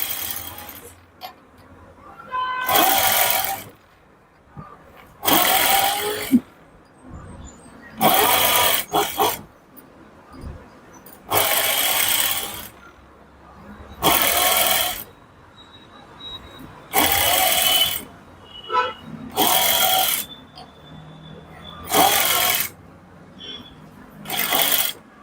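Sewing machine stitching piping onto a blouse, running in a series of loud, whirring bursts of a few seconds each with brief quiet pauses between, nearby and with no talk.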